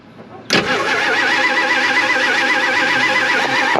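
A 1956 Chrysler Windsor wagon with a 354 HEMI V8 that ran when parked cranks briefly and catches. It settles into a loud, rough, close idle with a wavering whine riding on top.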